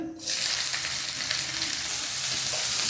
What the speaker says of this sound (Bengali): মিনওয়াইল আমি কিছু পেঁয়াজ ছোট ছোট করে কেটে এগুলোকে ছাড়িয়ে রেখেছিলাম, যেগুলো এবার আমি ঢেলে দেবো এর তেলের মধ্যে।